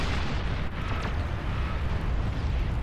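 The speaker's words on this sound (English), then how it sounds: "an explosion here chained, and then the mines exploded, and then the mines exploded back" A chain of mine explosions in the strategy game Beyond All Reason (BAR), heard as a dense, continuous rumbling roar of overlapping blasts that stays loud and steady throughout, with no talk over it.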